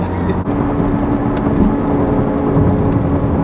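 Engine of a Chevrolet Corvette Z06 pulling steadily from inside the cabin, a sustained loud drone with a brief dip near the start as the driver downshifts with the paddle shifters, then the note carrying on.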